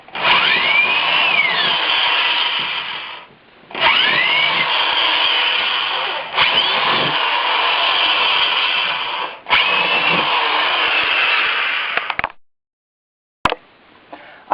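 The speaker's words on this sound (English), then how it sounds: "And then I'm going to drill the holes. I've got my drill. I'm using a 1/2-inch drill bit" A power drill fitted with a 1/2-inch bit bores holes into a wall, whining in several long, loud bursts separated by brief pauses, then falling silent with a sharp click and a short final burst.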